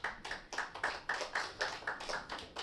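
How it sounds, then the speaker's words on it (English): A small group claps in a quick, even rhythm, about a dozen crisp hand claps spaced regularly, fairly faint and with no voices. "I like it when I get applause"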